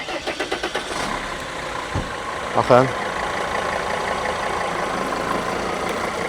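A 2001 car's 2.7 CDI diesel engine turns over with rapid starter chugs, catches with a sharp rise, then settles into a steady idle, while someone speaks briefly.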